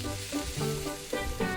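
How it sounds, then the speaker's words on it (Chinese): Onion and red pepper stir-fry in a pan of olive oil for a seafood paella base, giving a close, steady sizzle with brief stirring surges and no talk. "锅里下入洋葱和红辣椒翻炒"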